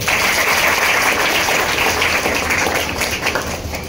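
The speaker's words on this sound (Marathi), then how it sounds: "ह्या विद्यार्थ्यांसाठी सगळ्यांनी टाळ्या वाजवा." Sustained clapping from a crowd gathered to honour meritorious students at a foundation's award ceremony. The applause is dense and steady, fading slightly toward the end, with no voices over it.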